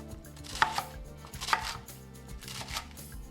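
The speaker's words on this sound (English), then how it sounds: "Just give that a rough chop and then toss that straight into the blender." Fruit or vegetables for a green smoothie being roughly chopped with a knife on a board, a few sharp thuds at uneven spacing under a steady soft background hum, no speech.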